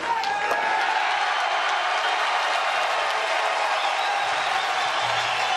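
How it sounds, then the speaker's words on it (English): A packed arena crowd at a Mosconi Cup pool match roars and cheers in a loud, sustained wall of noise, with a sharp burst near the start. "Listen to the crowd."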